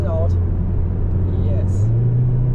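A Golf 7.5 GTI accelerating out of a double right-hander on the Nürburgring Nordschleife. The engine drones steadily from inside the cabin with rising pitch, under someone talking.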